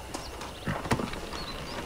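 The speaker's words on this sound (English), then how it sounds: "Let's take my horse." A horse's hooves clop in the video game Red Dead Redemption, giving a few soft, uneven footfalls over a quiet background within a brief moment.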